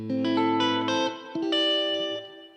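Electric guitar through a Bad Cat boutique amplifier with reverb set between spring and plate character: a few sustained chords and single notes ringing out, each trailing into a smooth wash of reverb, moderately loud and alone.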